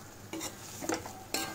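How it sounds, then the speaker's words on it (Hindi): Grated potato for aloo halwa being stirred and fried in a pan, with three separate bursts of scraping and sizzle spaced across a short, fairly quiet stretch. "अब मैं इसको मिक्स करके अच्छे से भूनने वाली हूँ।"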